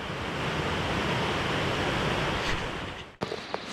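Kicking Horse River in Yoho National Park rushing past, a dense steady roar of flowing water close to the microphone, briefly cut off near the end by a few small knocks.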